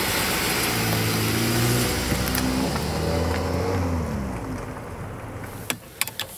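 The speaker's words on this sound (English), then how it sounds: "I'm driving this Volkswagen Polo" A 2014 Volkswagen Polo with a 1.2 TSI 66 kW petrol engine running while driving, a steady mid-pitched engine hum with rising and falling rev tones, then a few clicks near the end.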